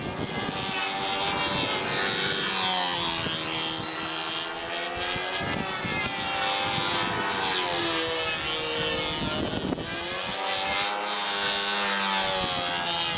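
Model airplane flying at the Windy U Nats meet in a breeze, its propeller engine whining loud and steady, the pitch sliding up and down as it passes and turns, with no talk over it.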